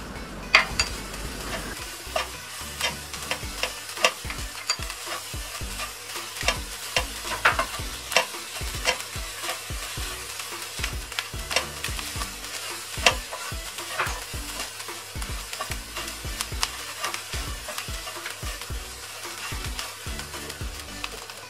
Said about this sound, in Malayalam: കുറച്ച് മല്ലിയില ചേർത്ത് നന്നായി വഴറ്റി